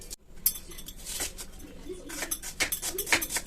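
A knife chops onions repeatedly on a cutting board, with irregular sharp thuds and clicks close by and no talking.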